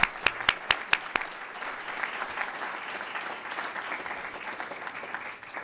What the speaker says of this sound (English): please give Bill a warm round of applause